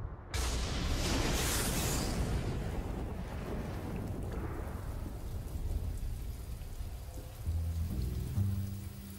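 Torrential rain pours down in the Kalahari, a dense, loud, steady hiss of downpour with deep thunder rumbling underneath, easing slightly midway before swelling again.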